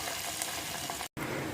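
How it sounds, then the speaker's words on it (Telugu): Tempering spices sizzling steadily in hot oil for tomato rasam, a close, continuous frying hiss with a brief cut near the end, no talk. "మన తాలింపు చక్కగా వేగిపోయిందండి"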